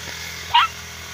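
A dog gives a single short, sharp bark outdoors in a village, moderately loud and close against a steady low background hum.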